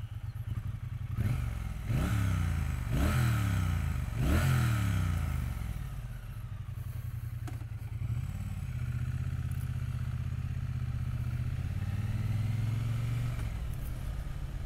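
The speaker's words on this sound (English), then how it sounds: "she sounds really, really nice from that 270 degree parallel twin" A 2022 Triumph T100 Bonneville Gold Line Edition with a 270 degree parallel twin, heard close as a few quick revs rise and fall before it settles into a steady, throbbing idle.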